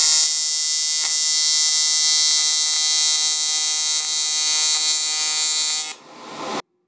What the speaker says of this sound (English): I'll throw a quick clip up on screen of me welding some awesome shit